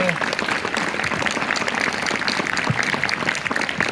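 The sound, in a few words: applause for a young girl's singing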